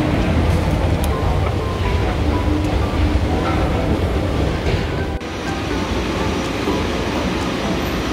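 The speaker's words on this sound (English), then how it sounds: "It's the way to long distance train station." A broad, steady rumble fills the long distance train station at Frankfurt Airport, a loud, continuous wash of rail and hall noise with a slight dip partway through.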